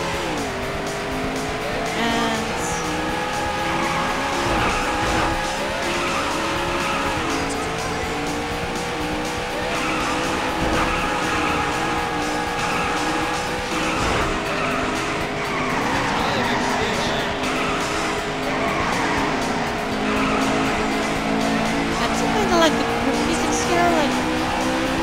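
Race cars from the Daytona USA arcade game drone with layered engine tones that shift pitch on gear changes, with tire squeals and skids throughout, steady and loud, with a voice talking over them.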